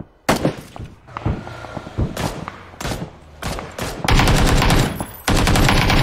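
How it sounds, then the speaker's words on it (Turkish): Gunfire in the battle royale video game PUBG: sharp, loud single shots and short bursts land at irregular intervals, then become sustained, rapid automatic fire toward the end. "Oğlum kendi adamını vuruyor Ford"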